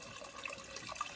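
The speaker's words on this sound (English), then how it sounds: "Add the rest of our beef broth." Beef broth is poured into a pot of smoked brisket beef stew, making a short, close, steady splashing trickle of liquid with no talking over it.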